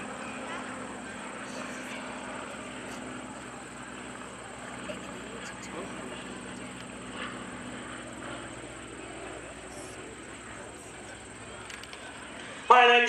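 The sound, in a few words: Aeronca L-16A propeller airplane flying past at airshow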